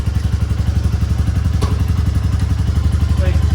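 A motorcycle ride to college brings a loud, close engine running at a fast, even throbbing rhythm throughout, with a brief clatter partway through.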